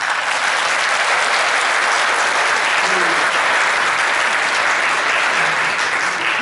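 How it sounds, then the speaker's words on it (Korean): Audience clapping fills the room at a 2015 continuing-education training session for private academy staff in Gumi, a dense, even applause that holds at full strength throughout. "이 자리에 계시는 분 모두를 위해서 박수를 한번 했으면 좋겠습니다"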